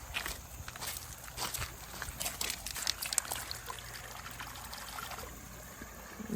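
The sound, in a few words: rinsing a found relic in river water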